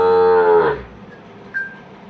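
A Nili buffalo lets out a loud, close, drawn-out moo that fades after under a second, followed by quiet farmyard background and a brief faint call.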